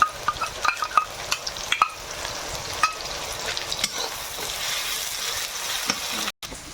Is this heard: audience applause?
no